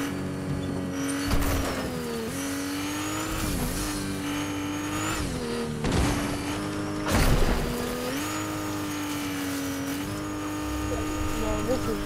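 Video game cars race at high speed with steady engine drone, rising revs and brief tire squeals and skids, while excited players talk and exclaim over it.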